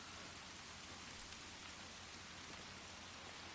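Steady rain falls in the Layton Lakes hunting game, a constant dense hiss of drops on surfaces that stays even and continuous throughout with no other sounds.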